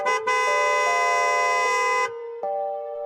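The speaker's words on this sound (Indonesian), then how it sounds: "Kita akan lakukan ritual 3 klakson." A car horn blares in three loud, steady honks close by: a long sustained blast, a brief gap, then two more held tones run together, ending in a short silence before a final softer toot begins.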